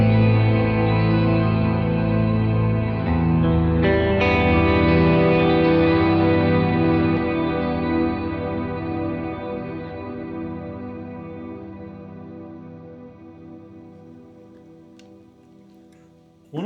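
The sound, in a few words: guitar pedalboard reverb and delay (DD500) decaying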